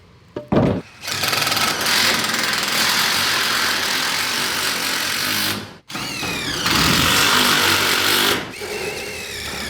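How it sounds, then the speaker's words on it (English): Power tool cutting through a treated recycled wood board for a homemade jet boat, a loud continuous whining buzz that runs for several seconds, breaks off briefly, then resumes just as strongly. "I'm gonna cut this treated piece of recycled wood to go down here"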